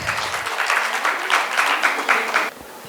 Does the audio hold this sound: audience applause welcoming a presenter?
yes